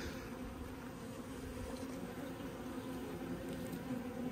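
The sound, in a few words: wasps buzzing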